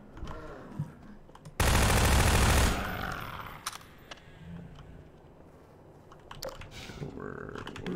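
Combine turrets in Half-Life 2 opening fire on soldiers, a loud sustained burst of rapid automatic fire lasting about a second, followed by scattered shots and clatter at lower volume.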